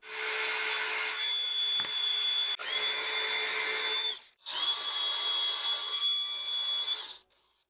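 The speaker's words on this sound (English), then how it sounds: "Now, as you can see, I do not use hammer drill, just the regular drill." A regular drill, not a hammer drill, whines steadily at high speed boring into a brick wall in two long bursts with a short pause between, then winds down; no talking.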